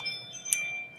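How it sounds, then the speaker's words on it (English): A Ring doorbell chime sounding once as a brief bright tone, moderately loud over a faint background hum. "sorry about the Ring doorbell, guys."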